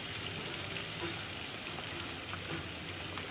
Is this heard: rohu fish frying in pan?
yes